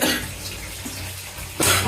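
Tap water runs and splashes into a bowl as raw chicken feet are washed and left to soak in a home kitchen, a steady close hiss that suddenly grows louder near the end.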